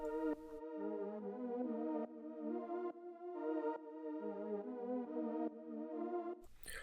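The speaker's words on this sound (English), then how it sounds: "the sound that I use is 129, the pad throb vocals." A dark, sustained synth pad with vocal-like tones throbbing in pulsing chords in FL Studio, changing every second or so, loud and steady with no talking.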